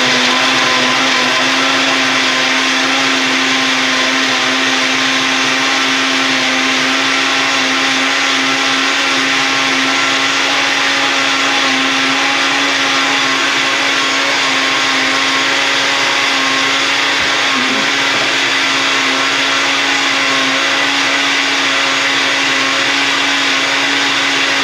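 A countertop blender runs steadily at high speed while making a green smoothie, a loud, continuous whirring drone that holds constant throughout with no talk over it.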